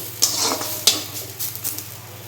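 Steady sizzle of spice paste frying in a hot pan for chicken kosha, with a couple of sharp clinks from a spoon stirring against the metal.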